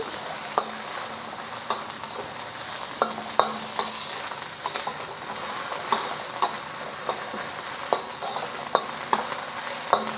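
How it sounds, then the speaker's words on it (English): Steady loud sizzling of onions frying in hot oil in a wok, with occasional scraping and clinking from stirring, no voices. "You cook this for about 2 to 3 minutes, just until the onions are softened."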